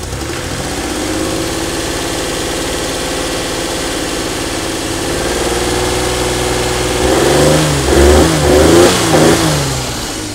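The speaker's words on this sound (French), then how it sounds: "Voilà, là la voiture tourne bien." A Citroën SM engine fitted with a 123Ignition electronic ignition runs steadily at idle nearby, then revs up in a few rising blips toward the end.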